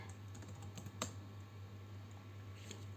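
Typing on a computer keyboard into a table in OpenOffice Writer comes through as soft, close key taps over a low steady hum, with one sharper keystroke standing out.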